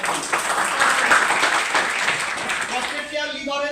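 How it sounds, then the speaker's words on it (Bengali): An audience at a health product training session bursts into loud, sustained clapping that fills the room, then thins out toward the end as a voice begins to come through. "একবার জোরে হাততালি হোক"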